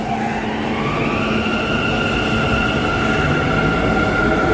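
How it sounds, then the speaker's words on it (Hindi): A Delhi metro train arrives at a station with a loud, steady whine and rumble that rises in pitch and runs unbroken for the whole stretch, with no voices over it. "15 मिनट इंतजार के बाद हमारी मेट्रो आ ही गई।"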